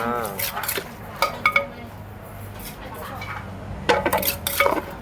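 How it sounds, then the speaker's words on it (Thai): Papaya salad with fresh shrimp and Vietnamese pork sausage scooped onto a plate, with light clinks and scrapes of utensils against dishes in short bursts, while people talk throughout. "ไปก็ตักใส่จานพร้อมเสิร์ฟครับ"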